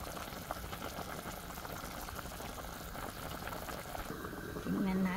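Chicken soup with chayote (sayote) bubbles in a pot on the stove, a steady, soft simmering hiss that continues throughout.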